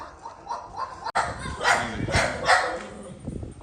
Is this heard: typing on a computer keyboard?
no